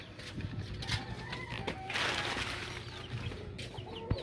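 Several young chicks peep while struggling in the cold, their thin chirps repeating continuously at moderate loudness over a noisy background.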